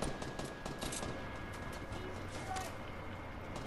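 Gunshots in Fortnite sound as a faint, distant string of quick pops and bursts over a steady low background hum, with no voices standing out.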